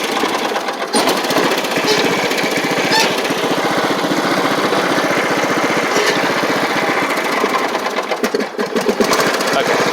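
A Troy-Bilt Pony 42X riding mower with a Powermore engine runs close by, a steady buzzing, rattling drone that continues throughout with a brief stutter near the start.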